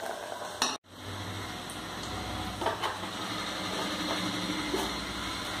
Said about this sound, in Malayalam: ഇനി നമുക്ക് അതിലേക്ക് ഉള്ളി കാച്ചി ഇടാം.